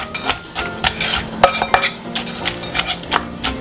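Sugar is mixed into a papaya salad with a utensil, producing a quick, uneven series of close clinks and scrapes against the bowl, around a dozen distinct knocks.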